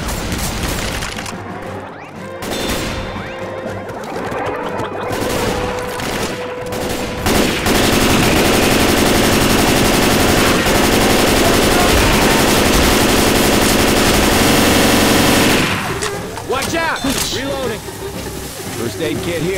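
Machine gun fire in a chaotic Mario-themed shooter video game, loud sustained bursts of rapid automatic shots building into a dense barrage with booms, followed by scattered crackling and voices talking over it.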